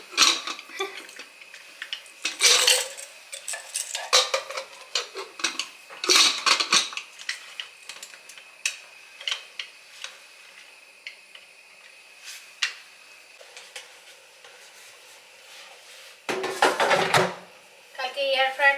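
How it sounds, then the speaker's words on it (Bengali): Home kitchen clatter of a tiffin box being washed along with other dishes: intermittent bursts of clinking and knocking, with the loudest clusters near the start, in the middle and toward the end, separated by quieter stretches. "আর টিফিন বক্সটা ধুয়ে রাখি"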